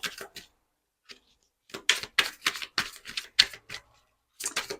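Tarot cards are shuffled and drawn, giving quick crisp clusters of flicks and taps in short bursts separated by brief silences, close and without talk.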